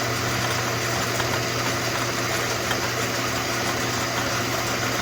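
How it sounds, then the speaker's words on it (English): Metal lathe spinning up for work on a Holley carburetor metering block, a steady loud mechanical hum and whir with constant vibration, unchanging throughout and with no talk. "we're going to spin this lathe up"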